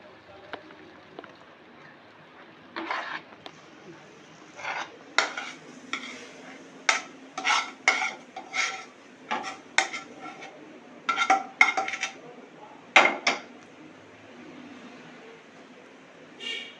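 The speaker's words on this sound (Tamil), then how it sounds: "கொஞ்சம் முந்திரி வந்து எண்ணெயில் கருவிச்சு சரியாக வறுத்துக்கங்க." Cashews being fried in oil for potato halwa: a spoon scrapes and taps the pan in quick bursts of irregular strokes over a faint sizzle, close and clear, with stretches of quiet between.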